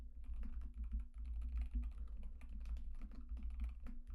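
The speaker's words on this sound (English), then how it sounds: "For now, I will just type the URL of my CAD." Fingers type a web address on a computer keyboard, producing a steady, rapid stream of close, soft key clicks with no talking.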